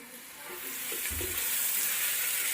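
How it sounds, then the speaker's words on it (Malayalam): Carrot and tomato for a quick bachelor-style biryani fry in a pot, a hissing sizzle that swells and grows louder, with a dull knock of a stirring spoon midway and no voices. "അടി പിടിക്കാതിരിക്കാൻ ഇളക്കിക്കൊണ്ടിരിക്കുക"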